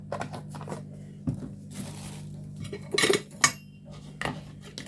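Egg and a little milk being mixed for an egg wash in a bowl: a fork or whisk clinks and scrapes against the bowl in short irregular bursts, close and fairly quiet, with no talking.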